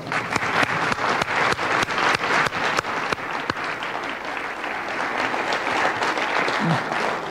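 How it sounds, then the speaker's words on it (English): A round of applause from the audience at a Chautauqua roundtable discussion, sharp individual claps standing out early before blending into sustained, full clapping from the crowd throughout. "Let's give them a round of applause"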